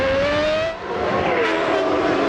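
Gerhard Berger's Formula 1 car at the 1995 Canadian Grand Prix screams past up close, its high engine note briefly dipping before climbing again at full, loud revs.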